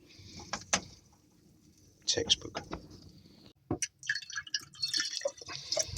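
Water is poured into a jar and swirled around in an off-grid camper van, giving a few short splashes and sloshing drips between pauses, with a voice speaking briefly nearby.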